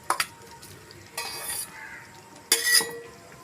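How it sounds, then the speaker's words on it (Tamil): A spoon scrapes around a pan of okra tamarind curry in three short bursts, with a soft sizzle and quiet clinks between the strokes. "நல்லா கலந்து விட்டுக்கோங்க."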